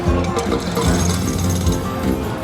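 A jackhammer sound effect rattles from the Huff N Puff slot game, a rapid loud mechanical pounding that runs steadily throughout with metallic clinks mixed in.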